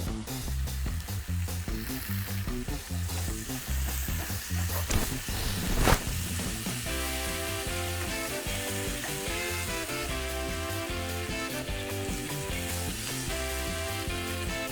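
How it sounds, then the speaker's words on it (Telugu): Mutton keema sizzling in a pan after ginger garlic paste is added, Andhra style. A loud, constant frying hiss with a brief stirring scrape, playing under steady music. "ఇది కొంచెం వేగాక కొంచెం అల్లం వెల్లుల్లి పేస్ట్ వేసుకుందాం."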